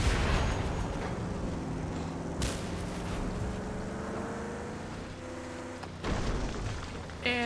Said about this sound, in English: It's just these explosions are fun.